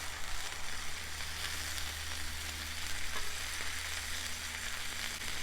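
Shrimp sizzle steadily on a hot hibachi-style griddle, a dense, even frying hiss close up with no voices over it.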